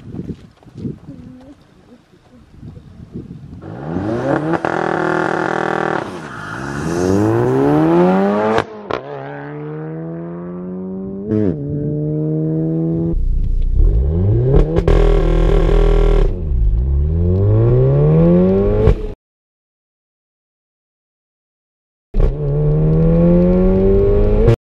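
A car doing launch tests on street tires revs loudly and accelerates hard, its engine note climbing repeatedly through quick gear shifts, then cuts out for a few seconds before pulling again.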